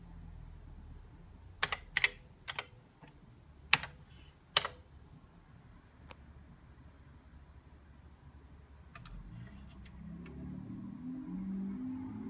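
Keys clatter on an MSX2 computer keyboard typed with one hand, a few sharp uneven clicks in short bursts, then sparse taps over a low steady hum.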